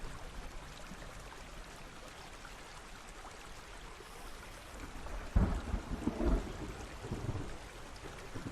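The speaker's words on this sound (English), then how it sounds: "Nice thunder sound." Thunder and rain in the video game Hellblade: Senua's Sacrifice: steady, soft rainfall patters throughout, then a deep rumbling thunder crash rolls in past the midpoint and lingers under the rain.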